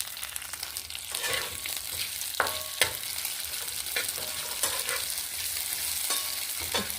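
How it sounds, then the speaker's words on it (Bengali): Chopped tomato is stirred in a frying pan with sesame and poppy flower for a village til mocha dish, giving scattered scraping clicks over a steady sizzle. "একটু ভালো করে নেড়ে নেব"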